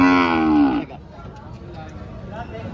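Cattle at a livestock market give a loud, close moo lasting under a second, followed by quieter market background noise.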